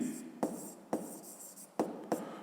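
Pen strokes on paper while working a school physics exercise, a quiet close scratching broken into five short bursts with brief pauses between them.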